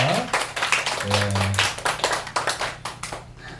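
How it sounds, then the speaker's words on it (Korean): A church congregation claps to welcome a new member, a middle-school first-year. The clapping is rhythmic and fairly close, with a sustained low hum beneath it. "나올 때 우리 큰 박수로 환영하겠습니다"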